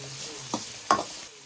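Spicy Maggi noodles are stirred with coarse salt in a pan: a soft frying hiss runs under two distinct scraping strokes of a utensil, close and brief.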